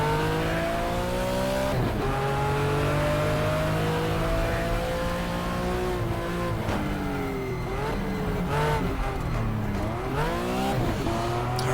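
A Porsche 911 IROC racing car engine in the GTR2 Power & Glory mod roars continuously at Hockenheim Short, revving up and dropping through gear changes with faint tire noise.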